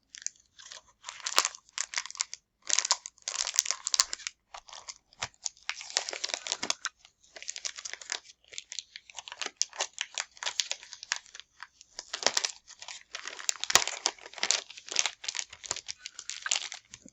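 Double-sided 6x6 Halloween paper is handled close up with crisp, irregular crinkles and rustles in bursts, no talking.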